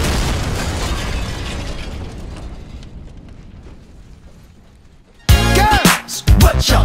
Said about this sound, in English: You hear that? Sounds like a bomb.